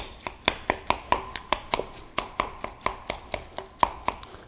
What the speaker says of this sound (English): mash some of this together and see how it looks